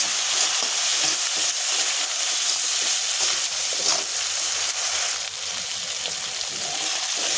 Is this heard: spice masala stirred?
yes